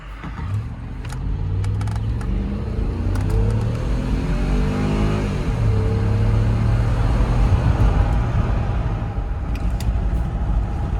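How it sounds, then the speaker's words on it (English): A 2009 Range Rover Sport engine revs and accelerates, rising harmonics climbing in pitch with a deep, throaty exhaust rumble throughout; no talking. "She's got a pretty throaty exhaust"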